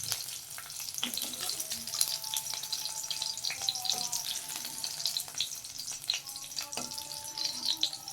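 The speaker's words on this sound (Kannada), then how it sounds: "ಈ ರೀತಿ ಈರುಳ್ಳಿನ ಕ್ಯೂಬ್ಸ್ ಆಗಿ ಕಟ್ ಮಾಡಿಕೊಂಡು ಅದನ್ನು ಫ್ರೈ ಮಾಡ್ಕೋಬೇಕು" Cubed onions fry steadily in hot oil in a pan, with a continuous bright crackling sizzle and scattered small pops and clicks from stirring throughout.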